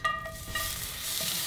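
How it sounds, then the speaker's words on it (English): Onions frying in a hot buttered pan while grilled apple bratwurst are prepared, giving a steady close crackling sizzle with a few stirring scrapes near the start. "Still got that sizzle."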